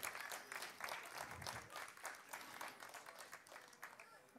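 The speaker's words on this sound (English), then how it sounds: "big applause." Crowd applause breaks out at a kart racing awards ceremony for the top five Junior ROK drivers, steady and dense clapping sustained throughout with some voices mixed in.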